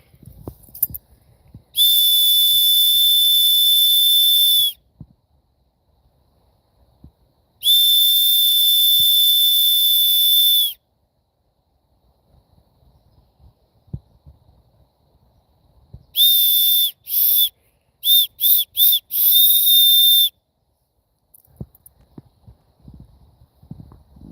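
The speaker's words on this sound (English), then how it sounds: "you heard the whistle" Loud, piercing whistle blown near the listener: two long steady blasts, then a burst of short rapid toots and a final longer one, with quiet background in between.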